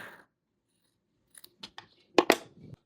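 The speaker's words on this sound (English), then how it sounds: "So I'm going to go ahead and trim that off." Scissors trimming vintage quilt fabric for a zippered pouch: after a quiet start, a short cluster of sharp, close snips and blade clicks, with no one talking.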